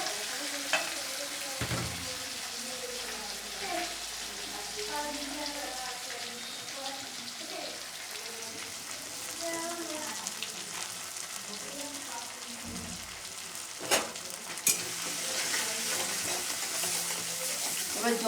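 Spice paste fries in a pan for a shrimp and green papaya ghonto, a steady close sizzle broken by scraping stirs and a few knocks of the spoon, with a voice speaking over it at times.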